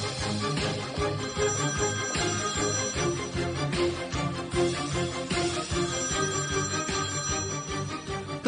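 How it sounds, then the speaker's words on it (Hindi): A phone ringtone plays continuously, a bright repeating melodic tone with a steady rhythm, loud and close, with no talking. "तुम फोन नहीं उठाओगे?"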